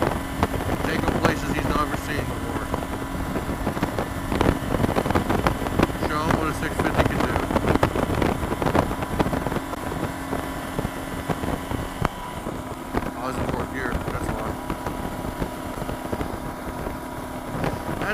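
A Kawasaki KLR motorcycle engine drones steadily while riding in high gear, mixed with heavy wind buffeting on the microphone throughout.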